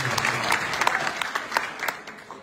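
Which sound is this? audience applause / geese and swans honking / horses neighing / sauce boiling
audience applause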